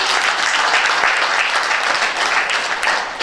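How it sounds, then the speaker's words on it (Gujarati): A women's group gathered for a Women's Day event claps together in a steady, sustained round of applause lasting a few seconds. "તો આપણે બધા તાળીઓ પાડીએ."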